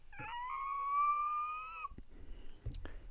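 A person whistles one sustained, fairly steady note for just under two seconds, exhaling normally rather than inhaling. Quiet breathy shuffling and soft noises follow.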